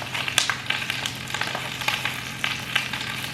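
Chicken fries in hot oil in a pan, a steady close sizzle with irregular crackles and pops scattered throughout, alone without any talk.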